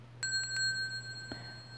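A small bright bell, like a bicycle bell, rings in a quiet classroom setting: two quick dings followed by a third, then fading, close and clear against a low steady hum.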